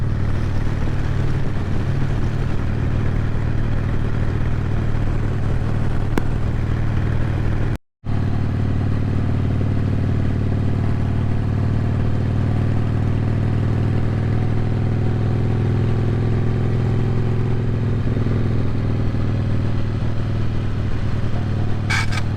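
A 2004 Harley-Davidson Softail rumbles steadily at cruising speed on the road, a loud, low, continuous engine drone with wind noise and a single brief dropout partway through.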